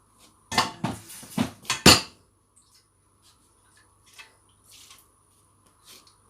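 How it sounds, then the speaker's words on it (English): A pot clanks and scrapes with splashing water in a quick burst of handling, then a few soft drips and taps in near silence. "I'm gonna rinse the pot so that I don't have any bits left on the bottom of the pot."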